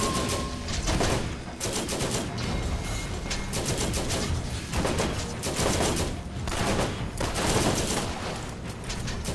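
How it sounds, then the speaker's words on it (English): Sustained enemy gunfire in a Borderlands shootout: rapid bursts of automatic shots and scattered single cracks keep going in waves throughout, loud and dense with almost no pauses. "I can hear them shooting at us and not hitting us."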